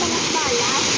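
Water roars steadily down a waterfall in Hong Kong after black rain, a dense, unbroken close-up rush of splashing flow that masks everything else.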